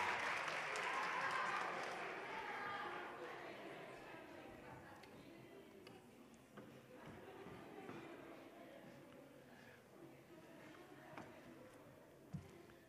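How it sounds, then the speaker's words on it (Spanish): Applause from the audience at a school awards ceremony for first- and second-year secondary students, a dense crowd clapping that is loudest at the start and then fades to a softer patter over about thirteen seconds. "aprovechamos de agradecer con un fuerte aplauso"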